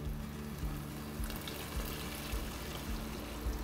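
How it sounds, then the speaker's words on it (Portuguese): Water pours steadily into a pot of cabbage rolls stuffed with chicken, a continuous close splashing trickle with no voices. "Vamos colocar duas medidas de água aqui."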